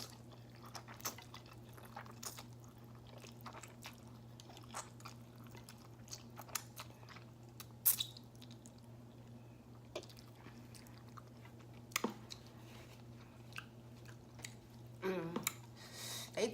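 Someone chews spicy ramen noodles close up, making soft wet squishes and crunchy bites in an irregular rhythm over a steady low background hum, with no talking.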